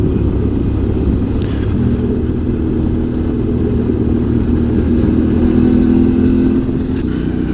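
Motorcycle riding downhill along a valley road in the Limousin countryside, its engine a steady, close drone with a slight rise in pitch midway, alone with no talk.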